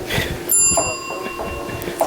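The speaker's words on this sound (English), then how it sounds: "check out my bike has a little bell." A small bicycle bell gives a single bright, ringing ding up close, its metallic tone lingering and fading over a couple of seconds amid light outdoor background noise.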